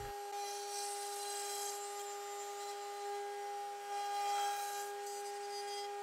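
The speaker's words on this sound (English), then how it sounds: "After setting up a straight bit in the router table, I can then route out the groove" Router table with a straight bit cutting a groove in reclaimed wood, a steady motor whine with a rasping cut running continuously and fairly close throughout.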